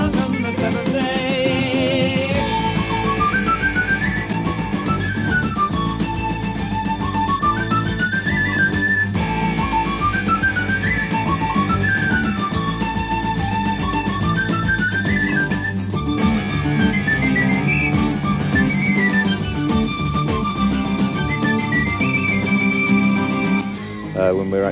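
Whistling carries the melody of a song, with a clear high tune rising and falling in looping phrases over a full, loud band backing throughout.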